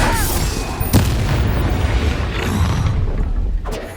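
A disarming spell effect from the Hogwarts Legacy game on PS5 lands with a booming impact, followed by a sustained rumbling magical whoosh and a second softer burst near the end, with no talk.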